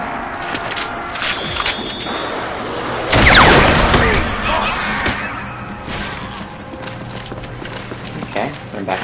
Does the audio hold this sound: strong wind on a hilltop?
no